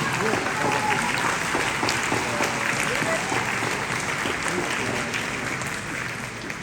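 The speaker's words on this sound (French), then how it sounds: "nous pouvons les applaudir" Audience applause at a reception in Paris Centre with the Mayor of Paris, a steady dense clapping crowd sustained throughout, with voices mixed in underneath.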